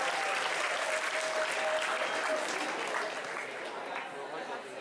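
Applause from a convention crowd at a summer cosplay competition awards ceremony, a dense steady clapping that fills the whole stretch and eases slightly toward the end.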